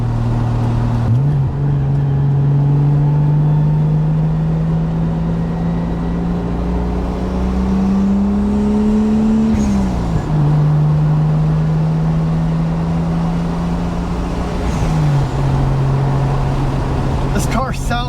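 A Toyota Supra's inline-six engine runs loud and close, holding a steady drone that rises slowly in pitch, dips twice as revs change, then settles again, with a voice talking faintly underneath.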